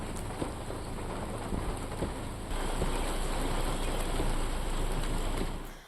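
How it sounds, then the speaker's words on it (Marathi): Steady rain pours down continuously, a dense hiss of drops on surfaces that grows slightly heavier partway through. "नाशिकमध्ये सुद्धा अवकाळी पाऊस"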